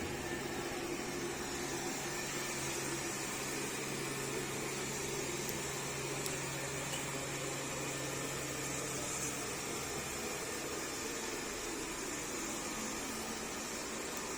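A steady, broadband whirring hum of a Xiaomi Mi Vacuum Mop Essential robot vacuum cleaner running continuously at an even level at standard power, with a faint tonal drone underneath.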